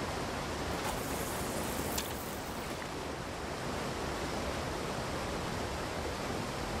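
Steady broadband rush of a waterfall in the fishing game Call of the Wild: The Angler, a constant roaring wash of falling water heard alone with no talk, loud and even throughout.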